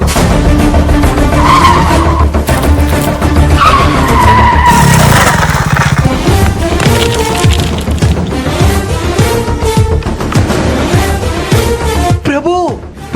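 A two-wheeler with failed brakes skids in a loud, drawn-out tire screech, shown in an animated story scene. Engine noise and dramatic sound effects run underneath, and voices are heard.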